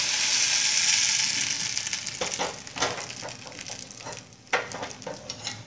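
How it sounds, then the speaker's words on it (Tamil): Appam batter hisses and sizzles steadily in a hot pan as it is poured and swirled, then a few scraping, clinking knocks of utensils follow near and clear. "இப்போ ஒரு கரண்டி மாவு விட்டுட்டு இந்த பாருங்க டக்குன்னு சுற்றிடணும்"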